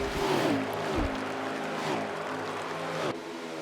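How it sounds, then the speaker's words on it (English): The race truck engine in NASCAR Heat 4 drones steadily, its pitch dipping and rising as it shifts, with a layered mechanical hum that runs throughout. "it's the only way an engine should sound"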